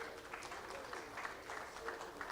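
Applause from the audience at a commemorative symposium as a speaker walks up, a fairly faint, steady patter of many hands clapping at a distance and continuing throughout.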